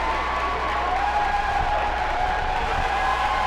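Hockey crowd at a Marquette Redmen state semifinal game cheers and applauds after a goal, a steady wall of roaring noise and clapping filling the arena, with a faint voice underneath.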